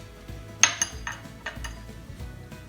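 Dry spices and flour are mixed in a bowl for a champakali namkeen snack, with a few light clinks of a spoon against the bowl and soft scraping, close up and quiet with no talk.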